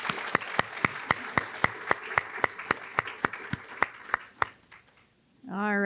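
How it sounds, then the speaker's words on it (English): Clapping for the lunch sponsors at a manufacturing week roundtable, a steady rhythmic run of sharp, evenly spaced claps that sounds like only a few hands, fading out before a voice starts talking at the very end. "So if we could give them a round of applause"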